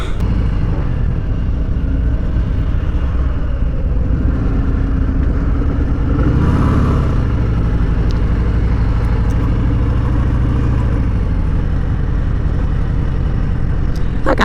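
A Harley-Davidson motorcycle rides through steep Seattle city streets, its loud, close engine droning steadily throughout with a brief rise in revs midway and constant road and wind rumble.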